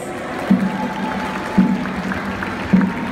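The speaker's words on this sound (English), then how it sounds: "Let's give you a big round of applause to send them out." Crowd applause for a marching band at a live show, a steady wash of clapping with low thumps recurring about once a second.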